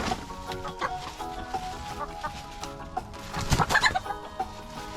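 Chickens cluck repeatedly close by on a farm, their busy calls rising into a louder burst of excited squawks near the end.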